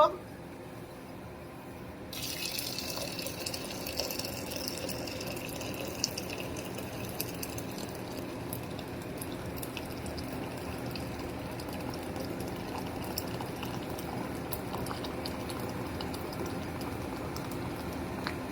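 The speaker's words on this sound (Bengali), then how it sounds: "গরম পানি দিয়ে দিলাম" Hot water pours steadily into a pot of washed lentils for thin Bengali dal, a continuous close splashing fill that starts after a quiet two seconds and runs unbroken to the end.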